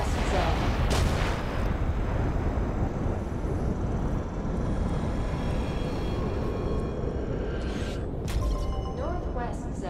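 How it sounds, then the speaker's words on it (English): A nuclear missile strike in the video game Darwin Project: a loud, deep, rolling explosion boom that sustains as a heavy roar, with faint ringing tones fading toward the end. "Nuclear missile has landed on Northwest Zone."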